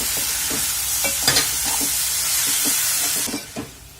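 Okra being stirred and roasted in a pan over a high gas flame, a steady loud sizzle with repeated scraping strokes of the spatula, close and continuous without talk.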